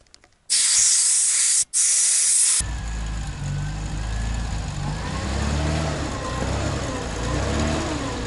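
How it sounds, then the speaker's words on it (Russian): Loud, steady hiss of air rushing from a car's rear-drive Izh Kombi right tyre as it is deflated in snow, briefly broken once, then cut off and followed by low background rumble. "Сейчас попробуем правое спустить и посмотреть, какой будет эффект."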